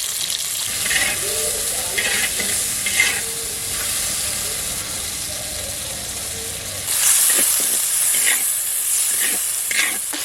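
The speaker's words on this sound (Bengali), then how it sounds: "কড়াইটা আমার গরম হয়ে গেছে, তেলও গরম হয়ে গেছে, এই চিংড়ি মাছটা দিয়ে দেবো।" Hot oil sizzles and spits steadily in a kadai, jumping to a sharper, louder sizzle partway through as shrimp hit the pan, with light stirring clatter.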